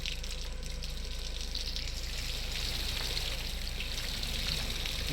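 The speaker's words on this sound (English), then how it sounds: "The water falling on the grate." In a video game, water falls steadily onto a metal grate with a soft, continuous splashing hiss, fairly faint and unbroken, and no one speaks.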